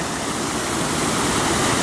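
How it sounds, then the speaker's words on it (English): Floodwater in Portland, Oregon pours as a waterfall into a storm drain, a loud, steady rushing roar that stays constant throughout with no voices. "there's another waterfall, and there's another drain"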